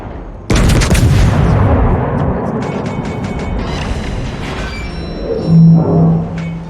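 Battleship Viribus Unitis fires its main guns in World of Warships: one sudden, loud booming salvo that rolls into a long, fading rumble, followed by faint game tones.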